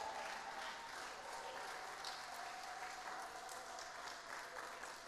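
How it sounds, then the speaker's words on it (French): A church congregation claps for the Lord during a French sermon, with dense, steady applause holding evenly at a moderate distance and faint crowd noise underneath. "Est-ce que quelqu'un peut acclamer le Seigneur?"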